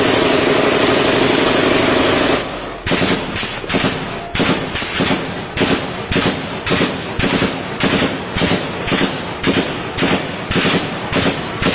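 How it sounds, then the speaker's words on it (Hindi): Gunfire heard in a night video recording played back, a steady series of sharp, evenly spaced bursts following a loud continuous rumble, dense and fairly close. "अंदर आपको बाकायदा गोली चलने की आवाज़ सुनाई देगी"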